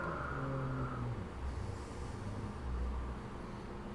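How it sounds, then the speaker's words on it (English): Road traffic with cars passing: a continuous low engine rumble and tire roar that rises and falls as vehicles go by, with some faint tonal music at the start. "Traffic noises."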